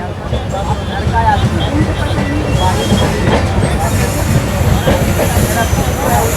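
A train runs on the Patna to Rajgir line, branching off the Patna–Howrah main line near Harnaut station, with a steady loud rumble and rattling wheels rolling continuously close by.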